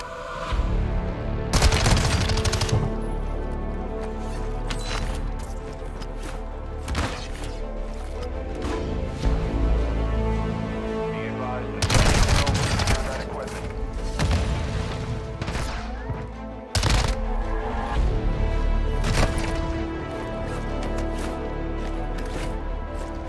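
Gunfire in Call of Duty DMZ, scattered loud bursts and single blasts breaking out at intervals over a steady background rumble, close and sharp with pauses between volleys.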